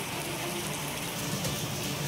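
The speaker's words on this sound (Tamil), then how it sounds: "மயிலாடுதுறை மற்றும் அதன் சுற்றுவட்டார பகுதிகளில் அதிகாலை முதலேயே கனமழையானது பெய்து வருகிறது." Heavy rain pours down in Mayiladuthurai, Tamil Nadu, making a dense, steady hiss that stays loud and unbroken throughout.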